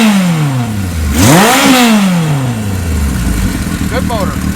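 A 1977 Kawasaki KZ1000A motorcycle engine revs up sharply once, peaks and then slowly winds back down toward idle, loud and close, with another short blip near the end.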